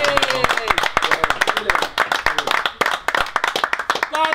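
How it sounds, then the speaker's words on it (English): A small group of carp anglers claps in a quick, uneven burst at a lakeside fishery, the sharp hand claps dense and close, with voices talking and cheering over the top. "I can safely say we deserve a good round of applause."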